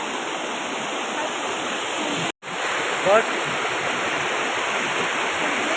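Kedarkada waterfall at Dadhra roars as a loud, unbroken wash of falling water, with a brief dropout and a short spoken word partway through.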